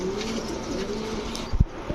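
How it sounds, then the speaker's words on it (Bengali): Young Netherlands-bloodline choco racer pigeons coo softly in a loft, a few low murmuring coos rising near the end over a steady background hum. "এগুলো হচ্ছে সব নেদারল্যান্ড ব্লাডের কবুতর"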